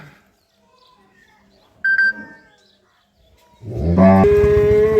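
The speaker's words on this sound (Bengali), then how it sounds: "প্রথম যে গরুটি রয়েছে সেটি নিয়ে আমরা কথা বলে রিয়াজ" After a quiet stretch and a brief beep, a cow lets out one loud, close, drawn-out moo.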